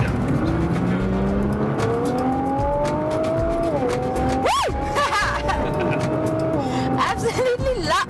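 A Nissan GT-R launches hard with the clutch engaged, its engine revving and pitch climbing through the gears with a brief tire chirp, loud and close under steady talking.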